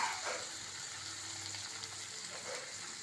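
Ivy gourd fries in a pan with a soft, even sizzle, faint and steady, with light stirring scrapes and no voices.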